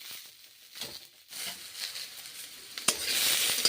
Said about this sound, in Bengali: তারপরে এখন বিনসগুলোকেও ভেজে নিচ্ছি।